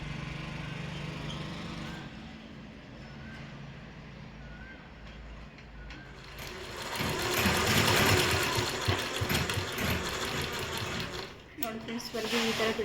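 A sewing machine stitches a fall onto a saree, running in a steady mechanical whir that grows louder and rougher midway, with faint background sounds around it.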